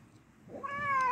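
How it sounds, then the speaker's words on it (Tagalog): A stray cat in Saudi Arabia lets out a single short meow, rising in pitch and loudness over about half a second, close and clear against a quiet background. "Meow, meow, meow,"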